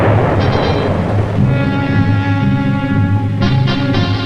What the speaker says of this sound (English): When the explosive is detonated, the geophones pick up the sounds of the blast